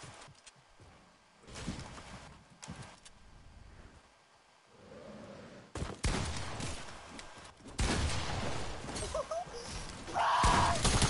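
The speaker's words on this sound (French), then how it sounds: "Ça tire à travers les builds." Bursts of video game gunfire crack through walls and player-built structures, in loud, dense volleys that grow heavier toward the end, mixed with engine revving and chaotic battle noise.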